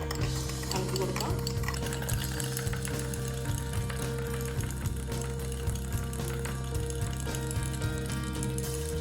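Coffee mixture being stirred by hand until creamy: a spoon or whisk strikes the cup quickly and rhythmically for several seconds, steady and close, with a faint voice in the background.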